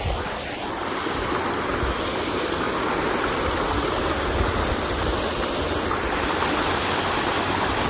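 Flowing stream water rushes in a steady, loud, unbroken wash that fills the whole stretch, with a faint hiss of wind and no voices.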